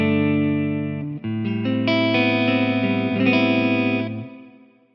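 A clean electric guitar tone run through a flanger on a Quad Cortex plays a short sequence of sustained notes and chords, swirling and shimmering, then fades away at the end.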